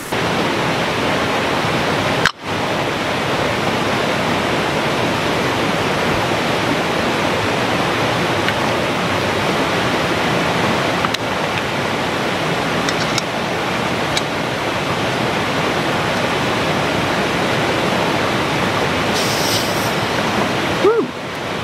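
A clear mountain creek flows steadily near a cooking spot, a loud, even rushing wash of water that continues unbroken throughout, with one brief knock near the start.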